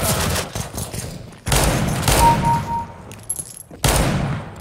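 Gunfire from the CS:GO video game comes in several loud, close bursts of rapid shots separated by brief gaps, with harsh cracks and thumps and no voices over them.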